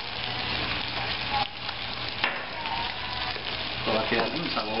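Meat and vegetables fry in a hot wok with a loud, continuous sizzle, broken by brief stirring and scraping moments. Light talk can be heard in the background.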